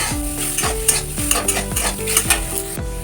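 Freshwater snails fry in a pan and are stirred for a couple of minutes. A spatula scrapes in steady rhythmic strokes, about one every half second, over a constant close sizzle with no talking.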